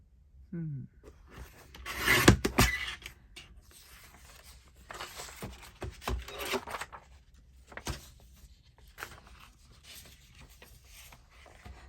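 Scissors or a trimmer cutting through journal paper, a series of short rasping snips and rubbing scrapes at close range, quiet and irregular with no speech.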